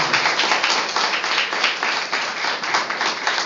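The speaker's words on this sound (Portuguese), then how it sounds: "Eu gostaria de uma grande salva de palmas ao Senhor Jesus." A church congregation bursts into steady, sustained applause, many hands clapping together in a dense, even wash that holds for the whole stretch without any talk over it.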